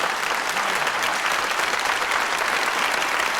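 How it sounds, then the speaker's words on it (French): Studio audience applause on a French evening television talk show, a dense continuous wash of clapping filling the whole moment at steady loudness. "Vous pourriez quand même m'applaudir,"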